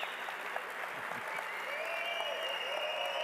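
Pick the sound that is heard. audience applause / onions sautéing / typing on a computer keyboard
audience applause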